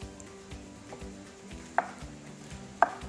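A big knife chops through pineapple on a cutting board for jam, with several dull close thuds in an uneven rhythm and two sharper knocks standing out, with no talking.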